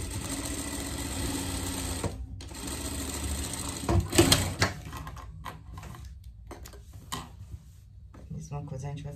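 Sewing machine running steadily as it stitches a seam on a pet vest, a continuous close whir that breaks off briefly, with a short clattering burst midway and a person speaking over it.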